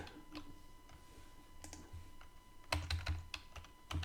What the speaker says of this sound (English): Now I have to enter my AD password